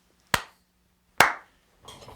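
Two sharp, loud hand claps ring out alone, about a second apart, each with a short bright decay, followed by a softer rustle.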